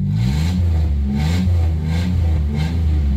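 A 1990 Dodge Grand Caravan LE van engine runs steadily after being refuelled, a loud, close, low rumble with slight rhythmic swells in revs and no talking.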